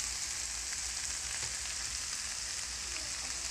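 Crushed cumin and black pepper go into a beans and potato milk curry as it sizzles and fries in the pan, a steady, faint, hissing crackle with no talk.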